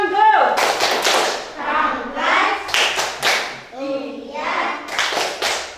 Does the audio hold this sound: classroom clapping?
yes